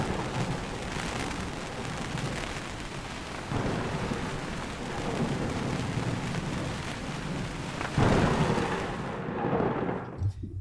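Steady heavy rain pours down during a night thunderstorm aboard a sailboat off Nova Scotia, with deep thunder rumbling through and a louder crack near the end, no voices.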